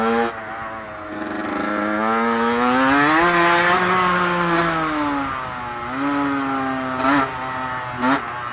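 Motorcycle engine revving steadily during wheelie practice on a ride, the pitch sweeping up and down across several throttle blips, loud and close with no talk over it.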